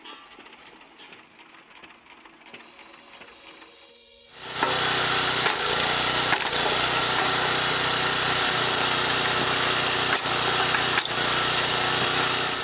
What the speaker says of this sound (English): a flywheel-driven Scotch yoke system, that's efficiency redefined